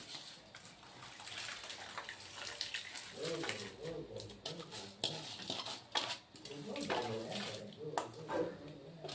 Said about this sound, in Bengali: চালটাও ধোয়া হয়ে গেছে, চালটা দিয়ে দিচ্ছি